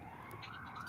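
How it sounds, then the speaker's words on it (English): Emergency vehicle sirens wail with a rising tone, faint and distant, heard continuously through a room. "I got a lot of sirens going on right here"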